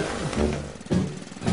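A tractor engine revs in three rising, straining bursts while trying to pull out a tree stump, loud and close with a rough, buzzing tone.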